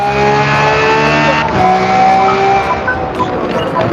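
Racing engine from Forza Motorsport, a steady high-revving drone that drops sharply in pitch partway through as the car downshifts for a hairpin, then holds a loud, continuous roar throughout.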